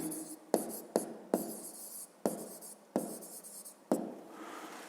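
Letters being written by hand on paper, a series of about seven distinct pen or pencil strokes, each a sharp tap followed by a short scratching drag, close and fairly quiet with no voices.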